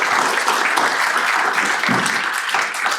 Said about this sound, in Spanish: Sí, hay un aplauso, por favor.